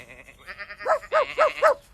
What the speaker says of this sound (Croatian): skupiti sve ovce na jedno mjesto